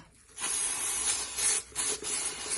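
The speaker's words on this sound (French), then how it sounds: "Tu peux utiliser du liquide de nettoyage de frein." Bursts of brake cleaner aerosol spray hiss close by, a long spray followed by two shorter ones with brief pauses between, during an oil change on a Nissan Qashqai J11.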